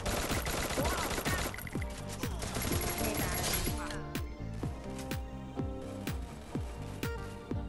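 Gunfire in the mobile battle royale game Free Fire, rapid repeated shots in a dense burst that thins into spaced single reports, with a player talking over the sounds.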